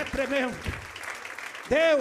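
A church congregation claps during a worship service, a soft diffuse patter heard mostly between and beneath a preacher's loud, ringing exclamations at the start and end.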